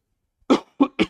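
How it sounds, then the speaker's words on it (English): Three sharp coughs in quick succession from a man, close and loud, following a brief silence, heard during a commentated board game match. "Sorry about all my coughing."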